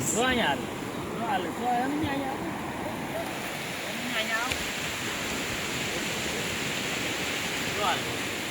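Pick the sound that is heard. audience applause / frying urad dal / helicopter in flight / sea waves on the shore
sea waves on the shore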